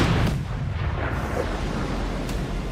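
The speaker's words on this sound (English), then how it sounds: "Ukrainian artillery receives the coordinates of Russian depot and opens fire." Artillery opens fire on an ammunition depot storing 152mm shells, heard as a heavy, booming blast with a rumbling roll-off, loud and unaccompanied by any voices.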